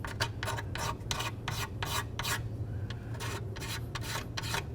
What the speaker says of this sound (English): take our nice flat razor blade and clean up the areas on the bottom of the intake where the gasket's going to ride